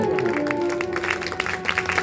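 An audience at a Bhagavat religious discourse claps together, a dense run of hand claps under a sustained voice and musical drone.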